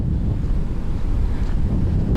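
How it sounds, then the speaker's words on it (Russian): Ocean surf rolling in at low tide on a Panama beach, a steady broad roar close by with wind buffeting the microphone throughout, no voices. "Там дальше океан."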